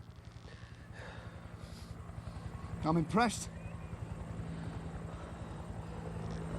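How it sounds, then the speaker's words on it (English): Helicopter rotor thudding steadily in the distance, a constant rhythmic chop beneath an outdoor scene where a soldier lies injured, with someone speaking briefly over it. "Get a chopper in here now."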